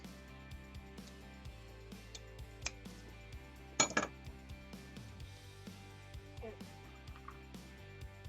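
Metal washers clink faintly as they are fitted onto a bolt while building a homemade rope maker, a few light sparse metallic taps with a brief louder jangle midway, close and quiet.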